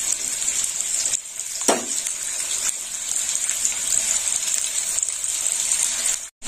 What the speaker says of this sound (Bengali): ভাজা হোক, আলুটা লাল লাল করে ভাজা হবে।